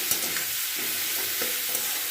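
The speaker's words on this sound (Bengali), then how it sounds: "সামান্য পরিমাণের একটু হলুদ দিয়ে পেঁয়াজটাকে একটু ভালো করে ভাজা ভাজা করে নিচ্ছি" Sliced onions frying in oil with salt and turmeric, a steady close sizzle under a few soft scrapes and knocks of a spoon stirring in the pan, with no voices.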